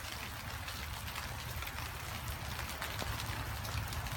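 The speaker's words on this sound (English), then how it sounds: "We're getting some hail, which is pretty interesting." Small hail patters steadily outdoors at Big Bear Lake, California, in spring, a dense continuous rattle of tiny ice pellets striking surfaces nearby, with no voices.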